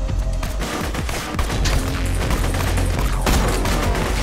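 Rapid gunfire rattles in Borderlands 2, dense bursts of shots and booming impacts crowding together loud and close across the whole stretch.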